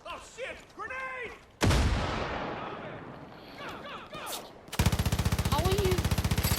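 A Far Cry 5 grenade explodes in a sudden loud broadband blast, followed by sustained rapid machine-gun fire in a steady rattling rhythm; voices talk briefly before the explosion.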